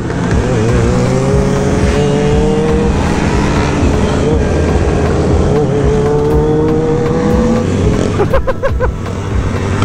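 A scooter engine revs and drones continuously during a stunt ride with two riders aboard in downtown Chicago on Mexican Independence Day, loud and close, with other vehicles and street noise mixed in.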